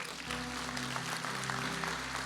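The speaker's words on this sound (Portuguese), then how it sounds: "Você pode dar um aplauso ao Senhor?" A church congregation applauds during a Tabernacles worship service, a steady, dense wash of clapping filling the room, with a sustained low musical tone underneath.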